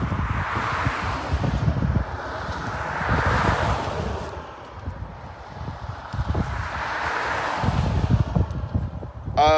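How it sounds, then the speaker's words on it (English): Wind gusts outdoors on a street buffet the microphone in rising and falling waves of low rumble and hiss. The gusts swell and ease several times over a few seconds. "It's a little windy and a little bright."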